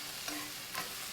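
Chorizo crisps in a pan with a low, even sizzle and two soft stirring scrapes, quiet and close for a brief moment.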